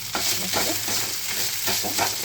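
Food sautéed in a frying pan gives a steady, close sizzle with rhythmic scraping stirs about every half second, and no one speaks.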